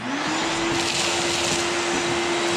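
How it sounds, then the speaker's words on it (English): A vacuum cleaner runs steadily up close, its motor whine constant as it sucks loose debris out of a car's rocker panel area during a rocker skin repair, with no talk. "So we're gonna vacuum out this area to clean up some of the debris."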